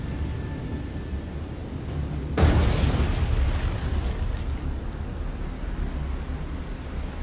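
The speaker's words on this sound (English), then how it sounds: "we got 3 torpedo strikes" Torpedo strikes explode against a warship in the naval combat game War on the Sea: a sudden heavy blast hits partway through, then a long rumbling roar that slowly fades over a low steady background.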